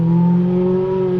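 A car engine in a 1966 Lotus driving simulator hums and revs with a steady, close, loud drone and a slight rise in pitch, alone with no talk.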